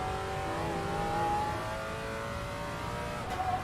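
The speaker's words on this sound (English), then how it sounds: "Engine sound of this car is pretty decent as well." A car engine drones steadily in a racing video game, holding a sustained rev with a gentle swell midway, loud and continuous with no talk over it.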